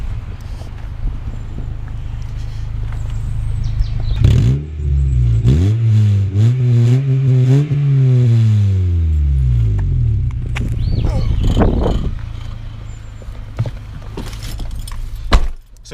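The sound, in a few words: Honda Civic MB2 D14A8 engine revving with aftermarket exhaust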